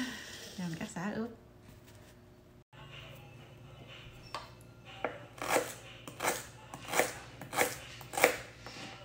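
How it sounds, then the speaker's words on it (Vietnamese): Lemongrass chopped for a marinade, a knife striking a cutting board in a quick, steady run of sharp, close chops after a brief voice and some quiet handling noise at the start. "Giờ mình cắt xả ướp."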